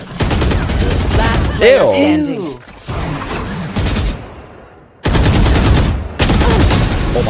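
Bursts of rapid gunfire in a ranked Valorant match crackle loudly in dense volleys, broken by short gaps, while players talk excitedly over the shooting.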